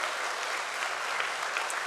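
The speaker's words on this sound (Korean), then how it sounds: "우리 성가대에 위해서 크게 뜨겁게 박수 한번 하십시다" A church congregation at an evening revival service claps for the choir, a dense, steady wash of applause that fills the room alone and holds evenly at moderate loudness without talk.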